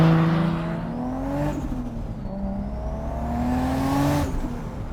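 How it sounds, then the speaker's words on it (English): A turbocharged 2JZ engine in a Toyota Supra, running with an open wastegate, drones and revs steadily, its pitch rising and falling in smooth sweeps, loud and close with no voices. "Nothing like an open wastegate on a 2JZ."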